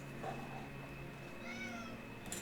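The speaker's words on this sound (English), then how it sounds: "Meowing monotonously." A cat meows steadily and monotonously at low level against a constant background hum, with no speech.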